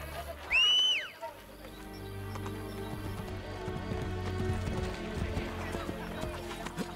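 A horse in Assassin's Creed Brotherhood gives a loud, rising whinny, then its hooves clip-clop in a steady trot among game music and ambient noise.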